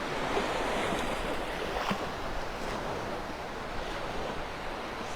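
Gulf surf washes steadily onto the beach at Wiggins Pass in North Naples, Florida, at sunrise. A constant hiss of waves is mixed with wind buffeting the microphone, and no one speaks.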